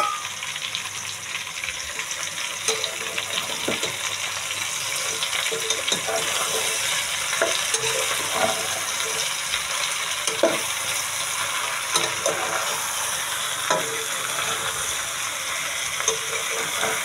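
Snake gourd tipped into fried onions in a pan, giving a steady, close frying hiss with scattered clicks and scrapes of stirring throughout.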